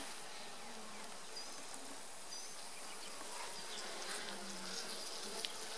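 Honey bees from a struggling colony buzzing around an open hive, a steady, faint, dense hum of many wings continuing throughout with no voices.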